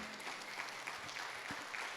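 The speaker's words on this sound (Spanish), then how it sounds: "Dele un aplauso al Rey" A church congregation applauds during a Spanish-language service, with steady, dense clapping filling the room at a moderate, slightly distant level.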